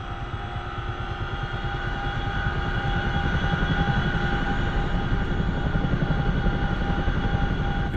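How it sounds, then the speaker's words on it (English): Chinook helicopter rotors spinning up during startup in the DCS World flight simulator, a steady close thwacking, slapping blade beat over a constant turbine whine that grows slightly louder over eight seconds, with no voices. "You can hear now the familiar sort of thwacky, slappy sound of the Chinook"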